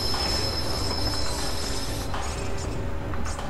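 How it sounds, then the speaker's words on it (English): A train pulls into a station in the video game Watch Dogs: Bad Blood, a loud continuous rumble with high squealing wheels on the rails and a rushing roar, heard close and alone without talking. "Southbound train arriving shortly."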